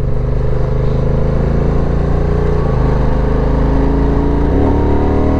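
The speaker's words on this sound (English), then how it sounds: "Full throttle, fourth gear, it didn't have much, get up and go, dropped it into third, and then it pulls you through." A 2022 Honda NT1100 motorcycle pulls hard at full throttle, its engine drone loud and continuous with rising pitch and a couple of gear changes, heard from the rider's position with wind noise.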